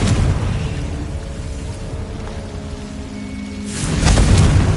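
A Confringo blasting spell in Hogwarts Legacy goes off near the end as a loud, broad burst rising out of a steady low rumble of game ambience, with no talk over it.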